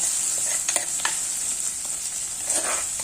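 Ginger and garlic sauté in hot oil for prawn curry, giving a steady, soft sizzle with occasional stirring scrapes in the pan, and no voices.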